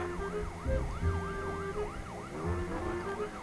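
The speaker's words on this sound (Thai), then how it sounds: "มันจะใช้รถที่ติดไซเรนนำขบวนหนึ่งคันนะครับ" Wailing electronic siren from the lead car of a convoy crossing a large bridge, its rising and falling sweeps repeating steadily and loudly over rumbling traffic and engine noise.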